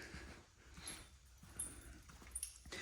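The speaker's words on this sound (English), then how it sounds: "Dog's trying to jump all over me." A dog whimpers softly in short, faint whines, close by, against a quiet background.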